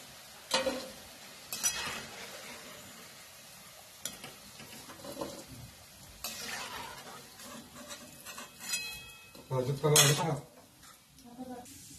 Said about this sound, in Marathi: आता अशा पद्धतीने आपण हे सगळे तळून घ्यायचे.